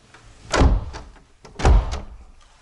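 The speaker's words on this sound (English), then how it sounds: "the door's not wanting to close" A house door with a newly installed threshold is pushed shut twice and fails to close properly, each attempt giving a loud, close thud with a brief rattle, the two knocks about a second apart.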